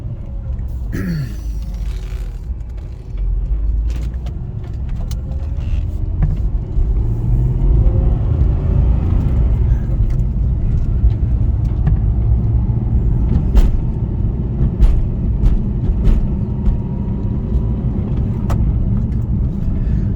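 A car engine hums steadily with low road rumble from inside the cabin, the pitch rising and falling gently through gear changes, with a few faint clicks and no speech.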